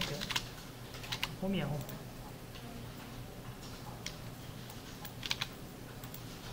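Computer keyboard typing, a steady run of light close clicks with occasional quicker bursts, continuing under a man's brief quiet speech.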